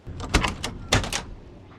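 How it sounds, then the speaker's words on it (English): Car door of a 1969 Mustang Mach 1 428 R-Code opening, two quick mechanical clunks of latch and hinge close by, the second following about half a second after the first, then quiet. "And doors open like new."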